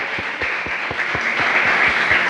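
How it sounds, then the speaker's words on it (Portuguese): Church congregation clapping together in a loud, rhythmic unison beat of evenly spaced claps over a broad wash of applause. "Dá uma salva de palmas para a palavra de Deus."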